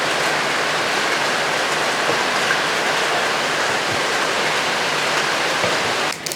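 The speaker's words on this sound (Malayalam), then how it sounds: "ഇനി നമുക്ക് കുറച്ച് വെള്ളം അങ്ങോട്ട് ഒഴിച്ചു കൊടുക്കാം" Water pours steadily into a pan of jackfruit seed curry spiced with turmeric and Kashmiri chili powder, a continuous close hiss that ends abruptly.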